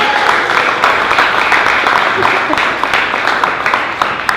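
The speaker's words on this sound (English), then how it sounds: "Also, give a big round of applause" Audience applause for Josh, a cast member of Robotic Circus: continuous, fairly loud clapping from a sizable crowd, with light cheering and crowd noise underneath.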